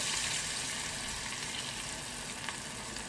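Chana dal pakora fritters frying in hot oil over moderate heat, a steady, even sizzle and crackle throughout, fairly quiet and with no voices.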